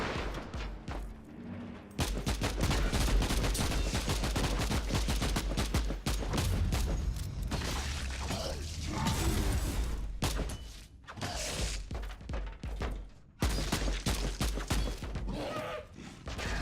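Shotgun fire in Warhammer 40K: Inquisitor - Martyr, loud and continuous, with rapid cracking blasts layered over rumbling combat noise that broke off for short pauses between volleys.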